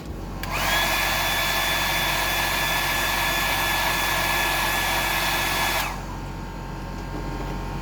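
Hair dryer blowing to dry paint on a squid-pattern hardbody fishing lure, switching on with a whine that rises to a steady, loud whooshing hum, running for about five seconds and then shutting off, leaving quieter background noise.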